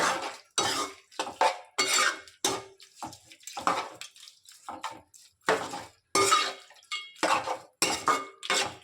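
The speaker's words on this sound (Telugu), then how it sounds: "అలాగే కాస్త పసుపు. రెండింటిని బాగా కలుపుకోవాలి." Spoon or utensil scraping and clinking against a metal pot while stirring turmeric into eggplant curry ingredients, in repeated short bursts separated by brief pauses, close and fairly quiet.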